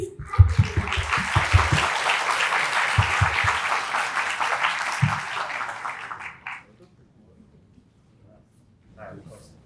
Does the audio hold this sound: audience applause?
yes